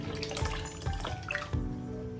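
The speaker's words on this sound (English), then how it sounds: "the next thing you need to do is to add that your chicken stock, that chicken stock water" Chicken stock poured into a pot of jollof rice: a close, continuous liquid pour with splashing and a few brief clinks, steady for a couple of seconds.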